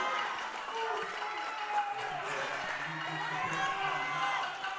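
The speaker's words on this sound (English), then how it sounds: "You'll hear the crowd light up." Crowd at a powerlifting national championship lighting up as a women's lifter walks out, a sustained roar of cheering and applause with voices talking over the top throughout.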